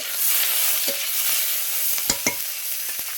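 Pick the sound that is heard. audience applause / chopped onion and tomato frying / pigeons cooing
chopped onion and tomato frying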